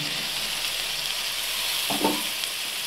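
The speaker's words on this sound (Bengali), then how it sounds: "এবার আমি এর মধ্যে সেদ্ধ ছোলাটা অ্যাড করে দেব" Boiled chickpeas added to chicken frying in oil in a pan, giving a steady bright sizzle close by, with a brief stirring rustle near the end.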